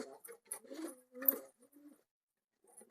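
A pet pigeon coos in short, soft repeated phrases close by, a few rapid throaty calls in a row before trailing off into quiet.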